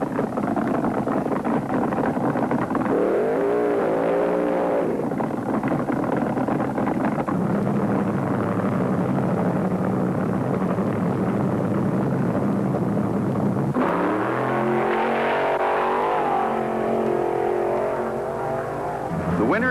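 Drag racing cars at the 1973 IHRA Northern Nationals roar loudly, engines revving and surging through launches and runs, with an announcer talking over the continuous engine noise.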